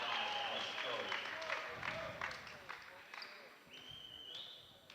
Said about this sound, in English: Thompson gets a nice round of applause from his fans who traveled up from Elida,